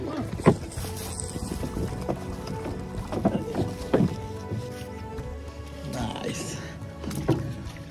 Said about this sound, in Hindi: और हमारी बोट आ गई यहाँ रेडी